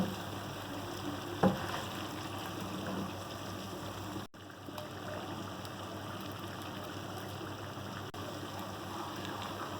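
Chicken fries in a pan with black pepper powder over a medium flame for Balochi tikka, a steady soft sizzle lasting throughout with one brief clatter partway in.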